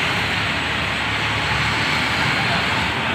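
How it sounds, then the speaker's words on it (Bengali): A Yamaha R15 motorcycle on a test ride roars past at high speed, a loud, constant broadband engine and wind rush filling the whole moment. "গাড়ি ট্রায়াল দিতেছে, গাড়ির যে স্পিড অনেক জোরে চলে আসতেছে মামা।"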